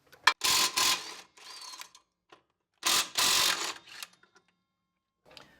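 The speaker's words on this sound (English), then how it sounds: "next we're going to remove the two bolts here, which are also 17, and that'll be the caliper bracket" Ratchet loosening 17 mm caliper bracket bolts on a Toyota 4Runner, two close bursts of rapid clicking separated by a quiet pause, with a few faint taps afterward.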